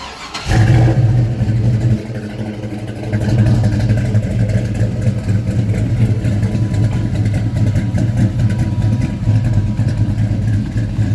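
A truck with a nitrous small-block V8 cranks and fires up, then settles into a loud, lumpy, rumbling idle that stays close and steady, with a brief rise in revs early on.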